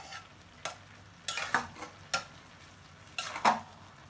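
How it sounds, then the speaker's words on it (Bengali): Chicken biryani stirred and mixed in a pan: several sharp scraping strokes of a spoon against the pan, spaced irregularly over a faint sizzle, close and clear with no talking. "একসাথে মিক্স করে দিলাম।"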